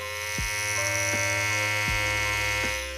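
Cordless Senior hair clippers in the Soul Edition run with a steady, loud electric buzz, close by, alone and without talk, and the motor hum holds even for the whole stretch.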